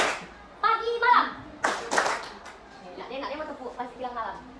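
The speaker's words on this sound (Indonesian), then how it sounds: "Dia mau tepuk pas bilang malam." In a classroom, schoolchildren play a clapping game, producing a few short bursts of hand claps among children's chatter and voices, with quieter talk continuing afterward.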